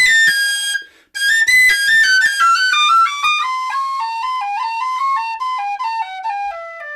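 Recorder Workshop High D tin whistle, played close and bright in a quick descending melodic run after a short opening note and a brief pause.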